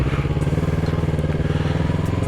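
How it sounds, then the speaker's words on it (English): An overheated motorcycle engine running loud and close, with a rough, rapidly pulsing idle and a low throb that holds steady the whole time. "my bike almost didn't start there"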